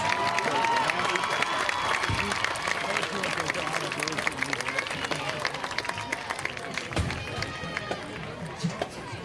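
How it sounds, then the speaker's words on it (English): A football stadium crowd applauds the Black Diamond Marching Band, a broad wash of clapping and scattered cheers heard at a distance, continuing throughout with crowd noise mixed in. "Give it a round of applause for your Black Diamond Marching Band."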